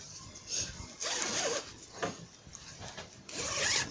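A zipper being pulled open and closed on a sewn bodycon short gown, several quick rasping zips in bursts, close and fairly quiet.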